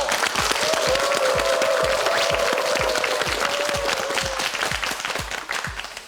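Sustained applause from a TV quiz show studio audience with steady, dense clapping that fades slightly toward the end, a faint tone humming underneath.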